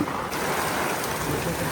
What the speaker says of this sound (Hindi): बहुत तेज़ बारिश हो रही है यार